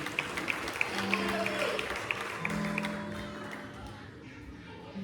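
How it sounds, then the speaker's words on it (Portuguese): A church congregation at an evening family worship service claps in a sustained round of applause, fairly distant and muffled, with sustained tones and voices running beneath, then fades. "Aplauda Jesus nesta noite."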